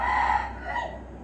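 A rooster crows once outdoors at moderate distance, a drawn-out call that fades over about a second with no talk.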